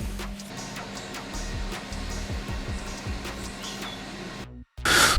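Ninja Foodi Max pressure cooker running while cooking french fries, a steady whirring fan hum with rhythmic low mechanical pulsing, close and continuous, ending in a short cut and a louder rush of air.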